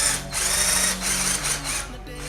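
A Kova 20V cordless drill bores into material with a loud whirring grind that runs in several short bursts, its tone shifting slightly between pulses, heard up close.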